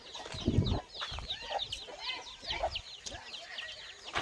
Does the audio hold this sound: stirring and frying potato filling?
no